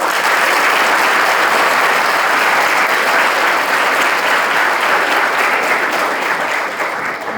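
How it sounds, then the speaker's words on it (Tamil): An audience at a school event in Tamil Nadu claps in sustained, dense applause that fills the hall at a steady level, easing only slightly near the end, with no voices on top. "நீங்கள் ஒரு கைத்தட்டல் தரலாம்"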